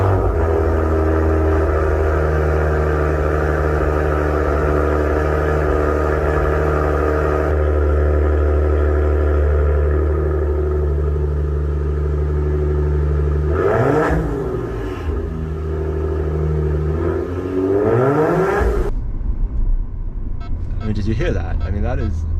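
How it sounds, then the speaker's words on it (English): A Maserati Ghibli engine idles with a deep, steady rumble, then revs up sharply twice, the exhaust roaring close by before settling back. "I'll put a clip to the exhaust note here."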